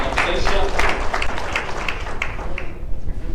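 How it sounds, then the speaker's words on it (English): At an awards ceremony honoring governors, MPs and county assembly speakers, a crowd gives a brief round of applause, steady clapping from many hands, fairly loud and close, with a voice briefly audible in the mix. "A round of applause in absentia."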